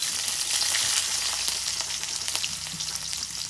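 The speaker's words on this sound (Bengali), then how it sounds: "তেল গরম হচ্ছে প্রথমে আমি পেঁয়াজ কুচি দিয়ে দিলাম" Chopped onion sizzles loudly in hot oil, a dense continuous crackle with light spattering pops and no voices.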